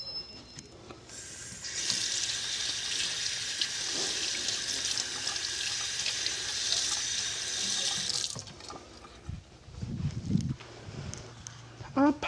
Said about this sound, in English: I just really wanted to rinse this spoon off.